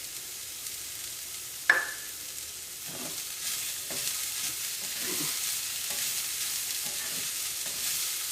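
Bitter gourd frying in a pan with salt and turmeric, a steady soft sizzle under scattered scraping stirs and one sharp clink early on, no talk.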